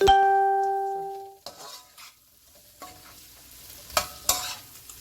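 Shrimp stirred in a pan over a flame, heard as a short tonal ring at the start followed by scattered scraping and sizzling, with two sharper utensil knocks near the end; no voices.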